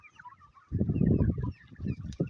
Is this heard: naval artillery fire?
no